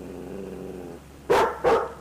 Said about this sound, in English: It was then that Lassie woke up and started barking.